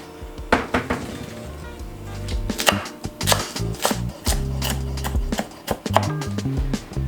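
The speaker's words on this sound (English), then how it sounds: "So when you slice off your piece of cabbage, make sure you take off the outer piece." A knife slicing red cabbage on a cutting board, making uneven crunchy chops and thuds that come in irregular clusters and sound close.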